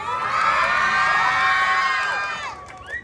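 Pageant crowd shouts and cheers during a national costume presentation, a loud sustained roar of many voices that fades near the end before a final short yell.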